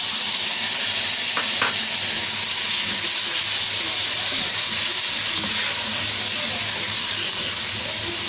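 Tomatoes hit hot oil with frying spices and red chili powder for a mixed vegetable curry, giving a loud, steady, close sizzle that hisses on without pause.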